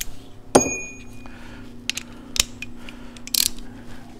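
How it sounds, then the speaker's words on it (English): A ratchet wrench torquing bolts on the bottom end of a 2004-or-later Harley-Davidson Sportster: close, crisp mechanical clicks and clacks of the ratchet at uneven intervals, with a faint steady hum beneath. "start torquing the bolts"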